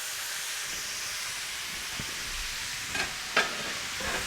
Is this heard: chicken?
yes